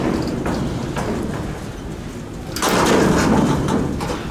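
A heavy Montgomery hydraulic freight elevator's doors close at a convention center. A low rumbling slide builds, then a louder clattering thud lands near the end as the doors meet.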